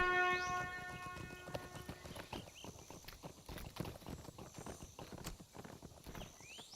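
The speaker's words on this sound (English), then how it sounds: "The horses have been set free from the orc pen." Many hooves clatter in a fast, uneven rhythm as horses freed from an orc pen gallop past in Lord of the Rings Online, with a brief tonal chime at the start and scattered game sounds.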